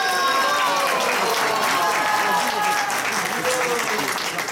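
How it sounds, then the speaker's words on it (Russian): An audience claps steadily and loudly throughout, a dense, sustained round of applause at a gathering, with a few voices faintly mixed in. "She deserves an applause every day."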